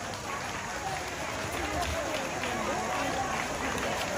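Sustained applause at a school opening ceremony, welcoming a teacher, sounds as a dense, even wash of clapping from a large crowd that continues without a break and stays fairly loud throughout.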